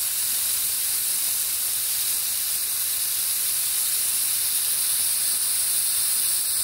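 A household steamer filled with fog juice instead of water hisses out a steady, loud, unbroken jet of steam, close by and alone with no voices.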